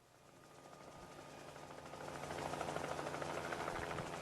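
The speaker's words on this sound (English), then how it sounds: "Oh, there's a helicopter." A helicopter's rotor thrum grows steadily louder as it approaches, a rapid pulsing chop over broad rushing noise, with no voices.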